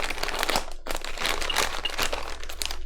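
Crinkling plastic rustles and crunches continuously, close up, with a few sharper rips as a sealed plastic bag holding Nerf Retaliator and Recon MK II accessory components is torn open.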